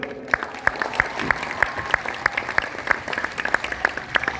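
An audience claps steadily at a live program, with sharp, dense hand claps running the whole time and no voices rising above them.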